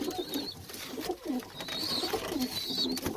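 Tumbler pigeons coo repeatedly inside a loft, soft rolling calls rising and falling close by, with a faint higher whistle or chirp now and then and no talking.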